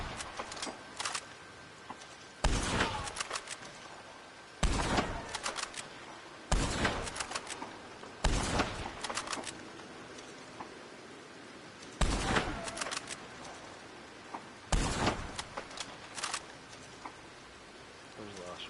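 Gunfire in the video game Red Dead Online: sharp, loud shots or short volleys crack out roughly every two to three seconds over a steady hissing background.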